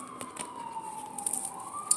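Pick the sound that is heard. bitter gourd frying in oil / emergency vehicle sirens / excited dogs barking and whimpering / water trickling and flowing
emergency vehicle sirens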